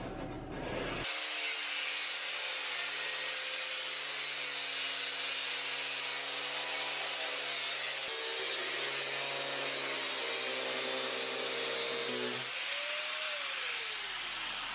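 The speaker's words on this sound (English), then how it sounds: "then we'll use the angle grinder to cut this open" An angle grinder cuts open a turbine casing in one long, loud, continuous whining grind. The tone shifts partway through, and the motor winds down as it ends.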